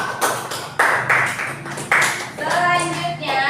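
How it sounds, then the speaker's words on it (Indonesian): A few loud, scattered claps from a class audience applauding a student group in an Indonesian teacher-training assessment, with ringing tones and voices toward the end. "kita beri tepuk tangan untuk kelompok Al-Qudus ya"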